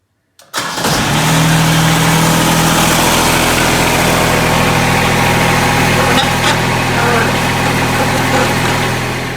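A Toro Dingo TX 575 compact utility loader's engine starts up and settles into a loud, steady idle, running continuously close by with a constant mechanical drone.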